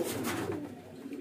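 A pigeon coos in a soft, low, throaty burble, close by and alone, one short rolling call held at even loudness.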